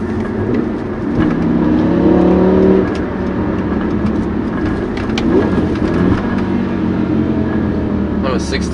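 BMW M5 E60 V10 with a six-speed manual, heard from inside the cabin as the engine revs up toward 6,000 rpm, a rising whine that peaks and drops, followed by lower engine drone and cabin rattles while people speak.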